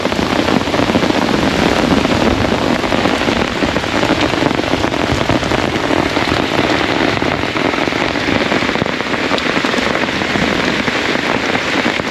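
Heavy rain pours steadily on a tent at a Wisconsin campsite during a thunderstorm, a dense, loud, unbroken hiss and patter throughout with no voices.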